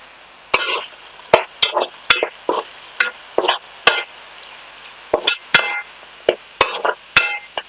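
Cauliflower, brinjal and potato curry with turmeric and salt cooking in a pan, heard as frequent sharp scrapes and knocks of a spoon stirring against the pan over a faint sizzle.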